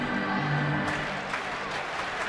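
Baseball crowd at a packed Friday night ballpark applauding, a short wash of clapping and crowd noise that stays fairly even, heard at a distance.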